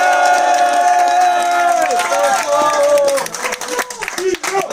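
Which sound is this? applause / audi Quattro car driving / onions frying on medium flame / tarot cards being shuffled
applause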